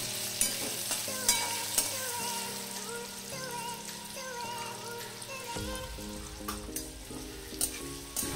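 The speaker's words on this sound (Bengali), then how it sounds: "আলুগুলো নাড়াচাড়া করে খুব ভালো করে ভেজে নেব।" Diced, salted potatoes are stirred in hot oil in a pan, with sharp spatula scrapes and taps at an irregular rhythm over a steady close sizzle.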